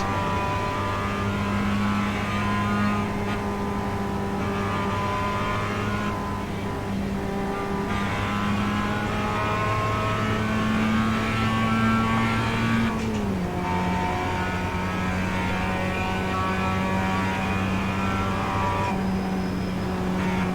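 Race car engines in a sim racing video game at Watkins Glen, with a steady, loud engine drone whose pitch holds, dips and climbs as gears change and the car works through corners, with no talking.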